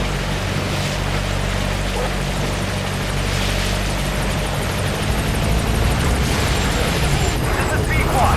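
A support helicopter in Metal Gear Solid V drones steadily with a dense rotor and engine roar, close and loud, holding at a landing zone while a radio voice talks over it.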